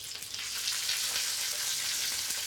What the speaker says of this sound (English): flash frying the duck leg before it goes in the soup